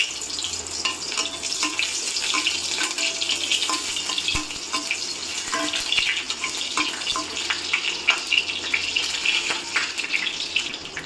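Sliced onion fries in hot mustard oil with a steady, close sizzle and crackle that continues throughout, with occasional faint clinks and no voices.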